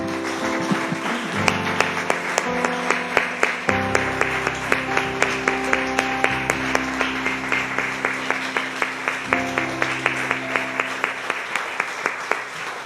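A church congregation claps for the Lord at the close of a Spanish-language sermon, steady rhythmic clapping running throughout with sustained musical tones underneath.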